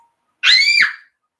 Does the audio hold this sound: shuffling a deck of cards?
no